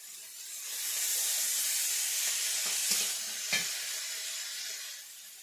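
Small river crabs fry in mustard oil, giving a continuous soft sizzle and hiss with a few brief clinks of stirring partway through.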